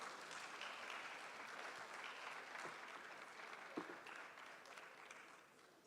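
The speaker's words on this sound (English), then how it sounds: "Let's welcome with a round of applause." A summit audience of political party delegates applauds to welcome a panelist, steady clapping heard at a distance at low level, tapering slightly toward the end.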